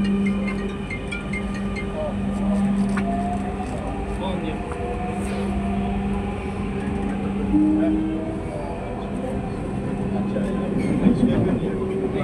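A Dhaka metro train runs along the line with a steady rolling rumble and a sustained electric hum throughout, as recorded from inside a carriage.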